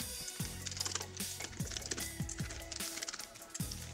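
Small screws being loosened on the battery inside an HP 17-ca1000 laptop, with a screwdriver giving repeated short clicks and scrapes close up, mixed with faint mechanical hum and no talking.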